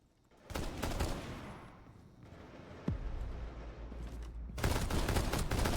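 Gunfire from a DMR rifle in an esports shooter match, with two loud bursts of shots about five seconds apart and a sharp single crack between them, dense and close throughout.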